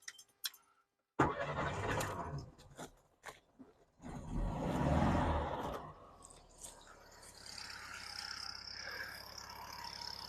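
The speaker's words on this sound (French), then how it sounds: "Voilà, donc là on va entendre le moteur." A 1972 Volkswagen Beetle with a 1200cc engine cranks after a few faint clicks, then catches with a short roar and settles into a quiet, steady idle.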